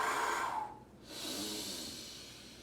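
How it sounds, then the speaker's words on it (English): Breathing just before a cycling workout, a strong drawn breath followed after a short pause by a softer, longer exhale, close and alone with no talk. "A little bit of breathing."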